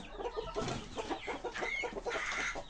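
Dwarf Cochin chickens cluck in a close, busy chorus, with short overlapping clucks and a few higher squawks throughout, no talking.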